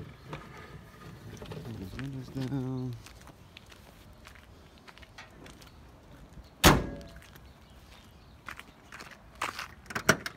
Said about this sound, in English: when I shut this thing, it shuts with a good thud